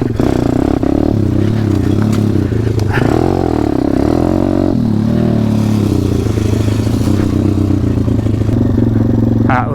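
WPB 190 pit bike engine revving on wooded trails, loud and close with repeated throttle rises and drops, rattling and clatter over the engine note.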